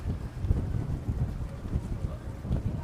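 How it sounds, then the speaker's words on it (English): Low, buffeting wind rumbling steadily against the microphone outdoors in San Francisco, with gusts rising and falling throughout. "It is very windy out today,"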